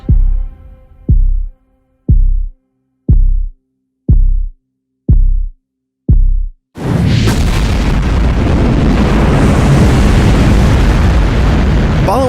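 Apollo 11 rocket launch ignition as heard in a documentary film: a series of seven deep, evenly spaced thumping beats, then a sudden sustained, loud rumbling roar.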